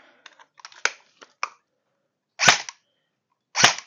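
A Golden Eagle M4A1 electric airsoft BB gun with a metal body fires two sharp, loud shots about a second apart, following a run of small clicks and handling noises.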